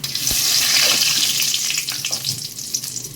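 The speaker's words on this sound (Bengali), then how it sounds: "আমি এখন এর মধ্যে অল্প একটু গোটা জিরে ফোড়ন দিই, আর দিয়ে দিই 2টো তেজপাতা" Whole cumin seeds and two bay leaves temper in hot oil for a coconut paneer dish, making a loud, close sizzle that starts strong and eases a little, with scattered crackles.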